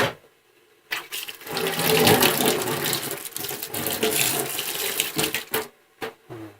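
Water gushes from a freshly cleaned and tightened tap mixer, a loud, strong splashing flow that starts after a brief silence, runs steadily, then cuts off in short bursts near the end.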